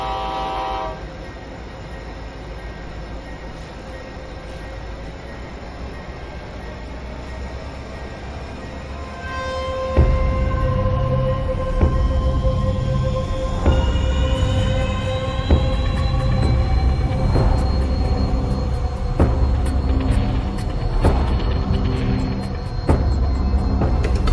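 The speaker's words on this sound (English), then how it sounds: "the train departs at 11:34 p.m., running over a half an hour late" A passenger train departs after repairs, a long low rumble swelling as it gets moving, with sustained horn or whistle tones and rhythmic wheel clatter building over about twenty seconds, fairly loud and without voices.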